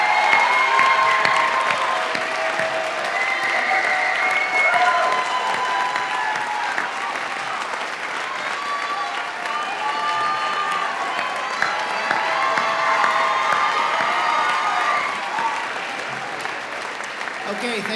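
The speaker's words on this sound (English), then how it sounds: "so that we can start this celebration with a round of applause for all of your" Sustained applause from a graduation convocation audience for an arts college, a dense crowd of many hands clapping steadily with scattered cheers, filling the hall for about eighteen seconds.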